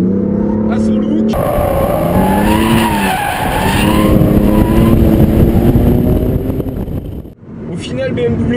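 A BMW M3 driven hard in Sport Plus mode, its engine note loud and close with rising and falling revs and tire noise throughout, under steady talk.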